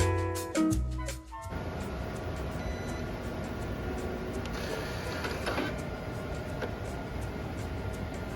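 Laboratory centrifuge spinning bacterial samples at 15,000 RPM and 4 degrees Celsius, a steady mechanical whir with a high whine that settles in after a few opening clicks and clunks.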